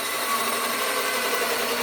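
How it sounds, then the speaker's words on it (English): A power drill bores steadily through metal stock on a lawnmower housing for a homemade brush cutter. It makes one continuous, loud, close grinding whine with no pauses and no voices. "Now I'll take the drill and we'll drill down through the lawnmower housing here."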